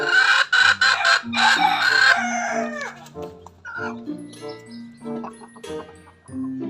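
Rooster clucks and crowing at close range, loud rhythmic bursts followed by softer drawn-out calls, with no other voices.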